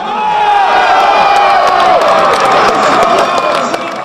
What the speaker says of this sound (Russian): и вместе искренне радовались забитым мячам.